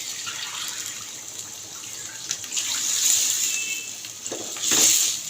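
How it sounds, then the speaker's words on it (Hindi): About two glasses of water are poured into a cooking pot of chicken and potatoes for aloo gosht, giving a close, loud splashing gush that swells twice, with no talking. "इस पॉइंट पे मैं इसमें पानी डाल दूंगी,"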